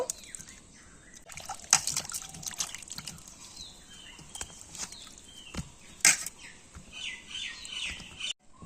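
Tomatoes are washed in clean water, with light splashes, drips and sloshing in irregular bursts, including a few sharper splashes, at moderate closeness and fairly quiet overall.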